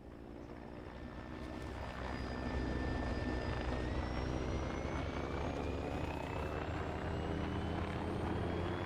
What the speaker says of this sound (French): C'est quoi cet hélicoptère là?